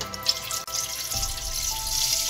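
Tap water runs into a metal pot, a steady splashing stream that deepens and grows louder as the vessel fills, with no one talking.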